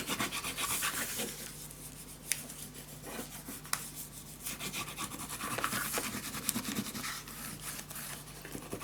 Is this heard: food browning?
no